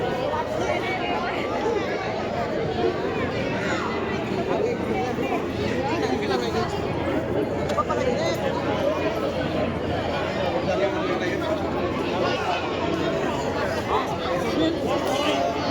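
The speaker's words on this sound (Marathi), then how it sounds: "आम्हाला वाटलं होतं की आज एवढी गर्दी राहणार नाही पण आज पण खूपच गर्दी आहे" Pilgrim crowds at the Shegaon temple make a steady babble of overlapping voices, with constant chatter and general bustle filling the space and no single voice standing out.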